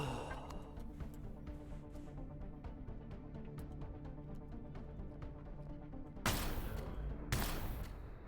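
Enemy gunfire aimed at the player in Empyrion, a steady run of quiet, moderately distant shots that ends in two louder, sharper bursts.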